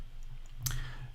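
A single sharp mouse click on a Mac permission dialog, brief and close, standing alone against a low steady background hum.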